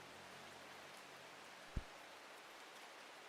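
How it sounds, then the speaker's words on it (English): Steady, soft rainfall hisses as ambience in the video game Strange Horticulture, an even wash of noise broken by a single dull thump, with no talking. "Does it ever stop raining in Undermere?"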